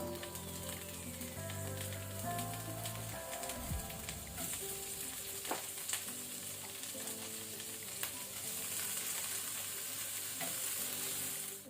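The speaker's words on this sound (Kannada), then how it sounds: "ಇದನ್ನೀಗ ನಾವು ಸ್ವಲ್ಪ ಎಣ್ಣೆಯಲ್ಲಿ ಫ್ರೈ ಮಾಡ್ಕೊಳ್ಬೇಕು" Capsicum frying in hot coconut oil, a steady crackling sizzle with spatula stirring and clinks, quiet and close, while faint music plays in the background.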